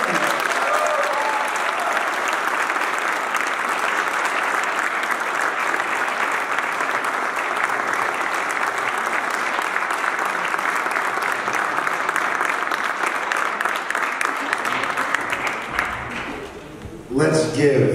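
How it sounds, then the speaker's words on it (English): Sustained applause from an audience at a New York City Council ceremony celebrating Albanian Independence Day, steady and loud for about fifteen seconds before tapering off, with a voice coming in at the very end. "give the very passionate and open and hardworking honoree another round of applause"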